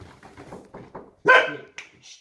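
A dog barks once, sharp and close, followed by a shorter yip. Faint rhythmic shuffling or soft thuds come just before the bark.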